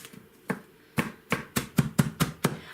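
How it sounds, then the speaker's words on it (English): Shallots being cut up on a board, a series of crisp close knife chops that start sparse and then settle into a quick, steady rhythm of about eight strikes, with nothing else heard. "And then we cut up our shallots."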